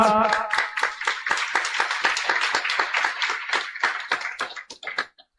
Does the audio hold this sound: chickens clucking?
no